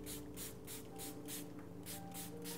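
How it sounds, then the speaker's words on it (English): A spray bottle of plain water mists a glass paint palette in about eight quick, even hissing bursts, close and soft with a low background hum. "I'm just going to mist down everything that has paint on it."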